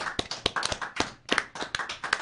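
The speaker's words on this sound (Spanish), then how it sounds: "Un aplauso para nuestra presidenta" Audience members applaud the president at a Peruvian political event: a sparse, uneven patter of individual hand claps, close and crisp, with a brief lull midway before the clapping resumes.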